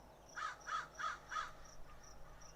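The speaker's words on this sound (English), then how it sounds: "Is that a crow in the background?" A crow cawing outdoors in the background, four evenly spaced harsh caws in quick succession, followed by fainter chirps over low ambient noise.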